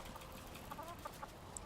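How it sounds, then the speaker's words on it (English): A hen in the game Valheim gives a few soft, brief clucks over a steady bed of ambient game noise, faint and spaced apart. "Aw, hen loves me."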